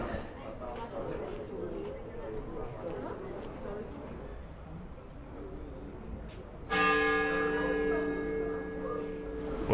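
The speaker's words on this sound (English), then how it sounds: "there goes one of those bells" A large bell in the Seville cathedral tower strikes suddenly, loud and ringing, its long resonant tone hanging over the crowd chatter and footsteps that fill the tower before it sounds.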